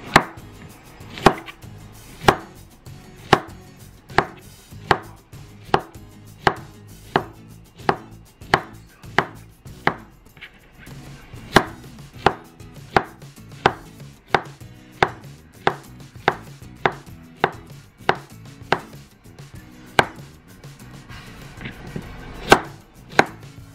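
Bananas chopped into thin slices with a knife on a cutting board for tajadas, a long run of sharp, evenly spaced close knocks with a brief pause midway and no talking.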